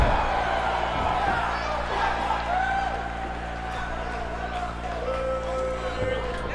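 Crowd noise at an indoor wrestling event, a loud, steady roar of cheering and shouting from the audience heard beneath an excited commentator talking throughout.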